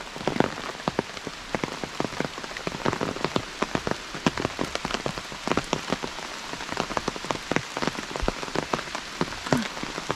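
Steady rain patters densely and close by at an outdoor viewpoint overlooking the Korean-peninsula-shaped landscape, with constant crisp drops on surfaces and no voices.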